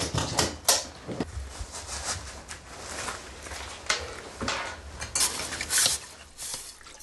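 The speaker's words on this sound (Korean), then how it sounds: "이제 설거지 할래" Dishes, pots and cutlery clatter and clink in a home kitchen during dishwashing, with irregular close knocks and scrapes over a steady wash of running water.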